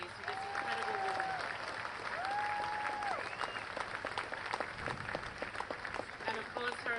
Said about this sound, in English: Another round of applause, please, for this incredible woman.